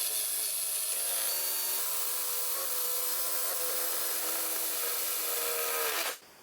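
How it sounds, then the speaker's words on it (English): A drill boring a hole through timber while fitting a custom roof rack on a camper van conversion, heard as a steady, loud, continuous whine and grind that stops abruptly near the end. "we're going to keep our drill nice and straight, putting it on top of that point that we marked off"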